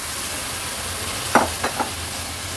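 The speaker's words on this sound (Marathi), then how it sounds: "स्वच्छ धुवून निवडून घेतलेले हे मोड आलेले वाल ऍड करूया।" Sprouted val beans tipped into a pan of sautéed masala paste make a few brief, soft clattering thuds in quick succession midway, over a quiet background hiss.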